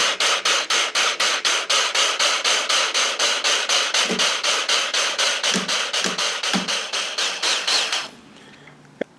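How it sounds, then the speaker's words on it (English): A Metabo 18V brushless hammer drill in Impuls mode hammers in a rapid, steady pulsing rhythm for several seconds, removing a stripped screw, close and loud, then stops abruptly, leaving near quiet and a faint click. "flip this over to Impuls mode simply by rotating that dial and try and remove it"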